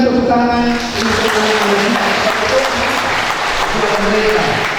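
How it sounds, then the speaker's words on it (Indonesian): A church congregation at a Sunday service gives sustained, fairly loud applause, with a voice and a musical tone audible near the start. "Mari kita sambut dengan tepuk tangan untuk"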